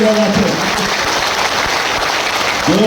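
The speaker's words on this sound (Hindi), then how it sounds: "आइए आपको ताली बजाकर बता देते हैं" Party workers clap together in a dense, continuous burst of applause, steady and loud from start to finish, with a voice just audible at the edges.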